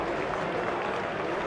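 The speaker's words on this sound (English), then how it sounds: "Hear the applause around the ground." Crowd applause spreads around Lord's cricket ground during a Middlesex v Essex T20 match, a steady, distant wash of clapping with no distinct voices.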